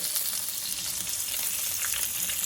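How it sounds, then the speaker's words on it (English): Trumpet mushrooms fry in butter with crushed garlic, giving a steady, dense sizzle that holds evenly and close throughout with no voices. "Baste with the butter and crushed garlic"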